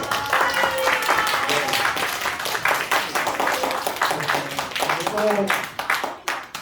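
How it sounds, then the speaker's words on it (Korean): A children's church group claps for a newly introduced leader, quick uneven clapping close by, mixed with excited voices and chatter. "박수!"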